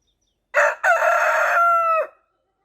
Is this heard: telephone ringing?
no